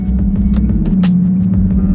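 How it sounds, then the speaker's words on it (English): A Nissan 370Z idles with a loud, close low engine drone while the gas is barely pressed, bringing a few brief throttle blips and rumbles over the steady hum at night. "pretty much just barely hit the gas down on the car"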